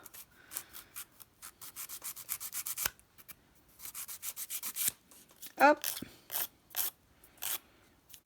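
A hand file rasps against a crochet-style fingernail extension in short bursts of brisk scratchy strokes, close and fairly quiet, pausing between sets; one brief spoken word.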